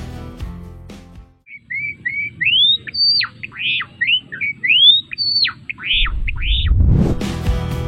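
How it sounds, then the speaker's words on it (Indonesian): A Java sparrow calls alone in a quick series of bright, clear chirps and short whistled notes. A dull noise swells in near the end. "Gelatik Jawa"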